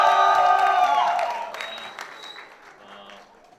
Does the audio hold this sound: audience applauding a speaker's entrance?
yes